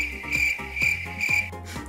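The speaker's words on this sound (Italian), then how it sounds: "Grilli." Crickets chirp in a steady rhythmic pulse, about four evenly spaced trills, alone and fairly close, used as a comic sound effect.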